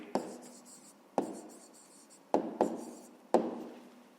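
Pen or chalk strokes write out the number 500 for a Ukrainian fifth-grade maths exercise, five distinct scratchy strokes with short pauses between them, close and isolated with no talking.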